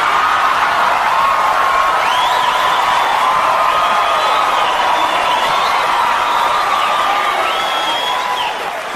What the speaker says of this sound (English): you guys are clapping and you're laughing because you know